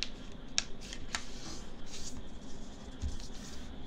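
Plain origami paper, white or a single solid colour, being folded corner to corner into a triangle for a heart-shaped necktie craft: soft papery rustling with a few crisp, sharp crease snaps, close and quiet.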